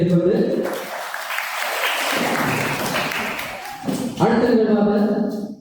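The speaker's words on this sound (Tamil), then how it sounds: "அந்த சின்ன சிறார்களுக்கு மீண்டும் எங்கள் கரகோஷத்தை தெரிவித்துக் கொண்டு" Audience at a temple hall opening ceremony claps for the children's performance, a dense burst of applause in the middle framed by someone speaking before and after.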